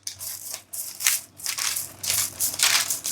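Crispy oven-baked TVP vegan bacon crunching in a series of short, close crackly bursts separated by brief pauses, with no talking.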